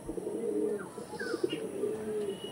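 Soft, low pigeon cooing repeats in throaty pulses across the clip, close by, with a few faint chirps in the background.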